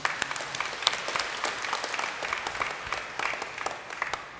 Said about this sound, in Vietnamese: Chúng ta chào chúc cho các bà bằng một tràng pháo tay.